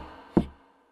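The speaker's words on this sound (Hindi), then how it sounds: "और दरवाजे पे नॉक किया।" A single sharp knock on a door in a Hindi cartoon retelling of Little Red Riding Hood, one close, dull thud that quickly fades into quiet.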